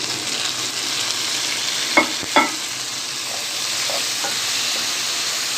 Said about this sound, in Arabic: ننزل عليها بالطماطم بالطريقه دي